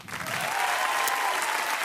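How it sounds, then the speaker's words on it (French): A studio audience on the French reality TV show Loft Story bursts into applause, rising quickly into a thick, continuous clatter of many hands that holds steady to the end. "qu'on applaudit tout de suite"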